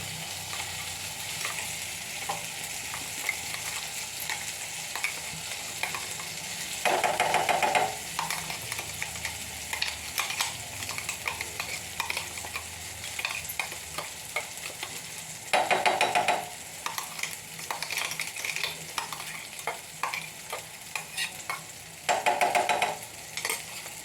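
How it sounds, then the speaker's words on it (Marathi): Coarsely ground green pea paste fries in hot oil with asafoetida, giving a steady crackling sizzle, broken by three louder bursts of stirring and scraping in the pan. "तेल तापलेलं आहे थोडा हिंग टाकते आता आपलं हे जाडसर वाटलेलं वाटाण्याचं वाटण टाकते"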